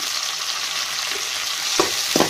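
Tomatoes and green chillies sizzle steadily in a hot pan for a sambar base, with a couple of sharper stirring scrapes near the end and no talking.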